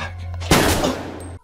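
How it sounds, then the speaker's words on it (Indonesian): A single loud gunshot in a film scene bursts out suddenly after a low steady hum, with a broad blast that decays over about a second before cutting off. "William menembak lebih cepat dari Jack."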